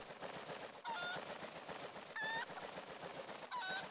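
Chicken in Zelda: Twilight Princess HD clucks in three short, bright squawks spaced apart over a busy, steady game soundtrack, fairly quiet, without speech.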